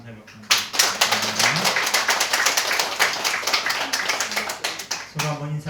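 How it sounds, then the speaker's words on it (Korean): Church congregation applauding in thanks after a worship team's praise, a burst of many hands clapping at a brisk, uneven rhythm for several seconds, with speech at the start and end. "다시 한번 우리 감사의 박수"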